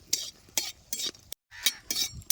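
A utensil scrapes and stirs dried red chillies frying in a pan in quick repeated strokes, with a faint frying crackle underneath and a brief break midway.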